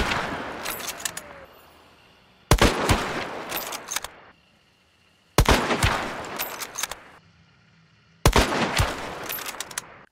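Four sharp rifle reports from a Mosin Obrez firing Spitzer ammunition in Hunt: Showdown, evenly spaced about three seconds apart. Each loud crack is followed by a long rolling echo and bolt or handling noise that fades before the next shot.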